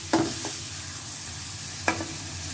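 Onions frying with salt in a pan, a low steady sizzle with two sharp spatula scrapes against the pan, close and without talk.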